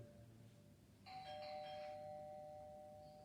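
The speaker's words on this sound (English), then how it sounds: "somebody answer the doorbell" A faint doorbell chime rings once in a quiet room, its tone ringing on and slowly fading under a low background hum.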